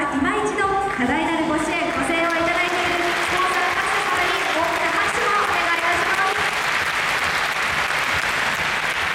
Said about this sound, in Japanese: スポンサーの皆様に大きな拍手を